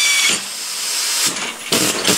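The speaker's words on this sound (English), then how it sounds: "Just got to drill with more power." A Mac Tools power drill bores into metal while a racing tractor frame is built, giving a harsh, hissing whine in several surging bursts, loud and close.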